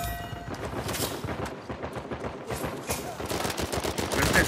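Rapid bursts of automatic gunfire from a powerful gun in the online video game Uncharted 4, dense repeated shots continuing steadily across the whole stretch.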